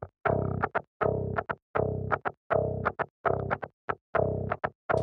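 A DI electric guitar signal with everything below 600 hertz filtered out plays a thin, bright riff of short strummed chords in rhythmic bursts separated by brief silences, close and clean with no voices.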